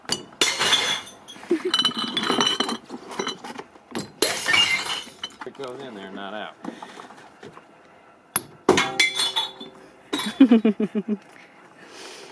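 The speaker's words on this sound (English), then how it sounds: "I love the glass one because I have to throw it in real hard and hear it break." Glass bottles are hurled hard into a public recycling bin, each landing in a loud crash of breaking, clinking glass, several impacts spaced over the clip with a brief spoken remark between throws.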